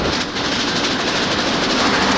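A train rolling along with a steady broadband rumble and faint repeating clatter, continuous and fairly loud throughout, no voices.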